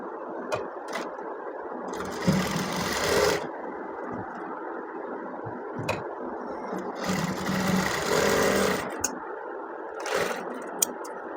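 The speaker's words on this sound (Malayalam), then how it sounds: "ഒരു സ്റ്റിച്ച് കൊടുക്കാവേ." A sewing machine stitches a Peter Pan collar onto a child's garment, running in two short whirring bursts of about a second each, separated by quieter handling noise.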